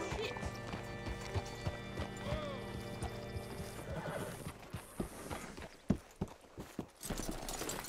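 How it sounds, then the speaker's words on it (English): Horse hooves clip-clopping on hard ground as a rider hitches up at an old western outpost, with a neigh early on amid a low background hum, then sharper scattered hoof knocks and thuds toward the end. "Hitch your horse up here"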